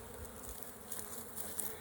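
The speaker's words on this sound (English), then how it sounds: "There are a ton of bees in here." Honey bees crowd an open, overcrowded hive, their constant buzzing filling the air up close in an even drone, with a brief louder flick near the end and no talking.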